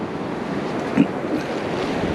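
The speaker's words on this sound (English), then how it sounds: "the water pushes up this way and then leaves everything on the beach as it goes back out" Ocean waves wash up onto the beach at Assateague Island in a steady, soft rush of surf mixed with wind buffeting the microphone, with one brief splash midway.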